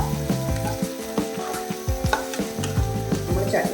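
Sliced ridge gourd tossed into a hot pan and sautéed, with a steady sizzle and repeated scraping, knocking stir strokes of a spoon against the pan, close and fairly loud, with no talking.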